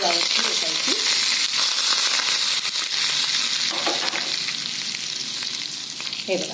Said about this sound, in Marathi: ही अशी कडकडीत फोडणी यावरती टाकायची